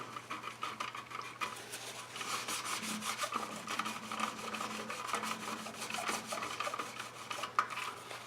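Steady hand rubbing of polishing compound on a tin toy, an unbroken close scrubbing rasp with small shifts in pressure and no voices over it.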